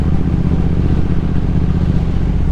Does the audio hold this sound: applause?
no